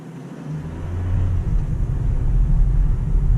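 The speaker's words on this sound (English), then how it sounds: "So all of this noise is just wind noise and tire noise" A 2021 Geely Okavango mild hybrid SUV accelerating on the road, low rumbling wind and tire noise heard from inside the cabin, swelling louder after the first second and then holding steady.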